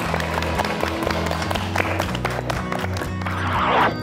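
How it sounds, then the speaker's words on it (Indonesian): A short burst of clapping, as in an audience applause effect on a children's lesson program, sits over a steady backing music track with rhythmic bass, and the clapping swells briefly near the end. "Tepuk tangan dulu."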